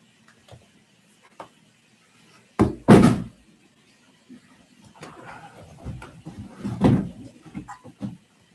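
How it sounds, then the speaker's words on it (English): A cat knocks objects off a desk indoors, giving a few sharp knocks and clatters with a louder thud cluster midway and scattered small bumps, close by with no talk. "cat's knocking things off the desk"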